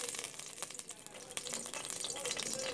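Meat dropped into a pot with a little oil for Haitian soup joumou, giving a steady, close crackling sizzle with faint clatter throughout.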